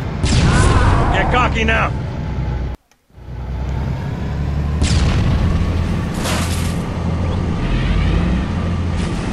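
Loud Covenant tank fire explosions in the video game Halo, deep booming blasts rumbling continuously with a brief drop to silence, while a voice shouts over the din.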